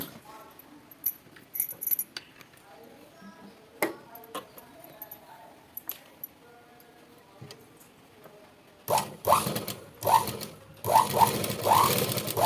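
A sewing machine stitching a blouse, first quiet clicks and handling taps, then loud rapid bursts of stitching near the end.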